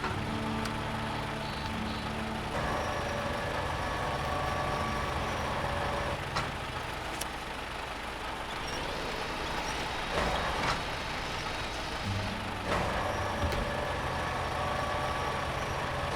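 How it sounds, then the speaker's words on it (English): A truck engine in SnowRunner runs steadily to power a crane, a continuous rumbling drone with occasional clanks and hisses layered over it, holding a constant level throughout. "Turn the engine on, because we need the engine to run the crane."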